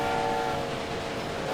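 Train arriving in the railway management game Railway Empire, a continuous rumbling rail noise with a sustained horn-like whistle tone running throughout, steady and fairly loud with no talk.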